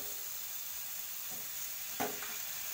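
A mushroom curry with boiled mushrooms and a ground paste sizzles faintly in a pan while it is stirred, with a soft steady hiss and one brief scrape of the spoon near the end.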